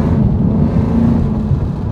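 A 2018 Chevrolet Camaro ZL1 with its secondary catalytic converters deleted idles and is lightly revved up close, a loud, deep, steady rumble that holds without breaks.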